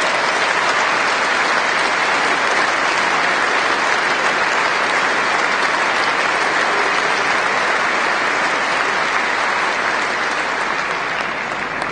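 Sustained, loud audience applause fills a hall at a trade union congress, steady clapping from a large crowd with no break and no speech over it.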